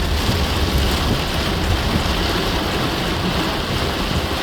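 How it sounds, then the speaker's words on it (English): Heavy rainstorm in Monrovia, Liberia: a dense, steady roar of rain pouring down, loud and close, with no breaks and no voices. "This is rain, man."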